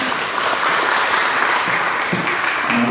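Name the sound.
applause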